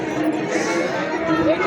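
Crowded temple grounds near a goddess shrine during a new-moon festival gathering, a continuous roar of overlapping voices and movement, loud and close throughout.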